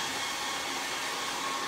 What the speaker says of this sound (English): I'm gonna go ahead and hit it with a hair dryer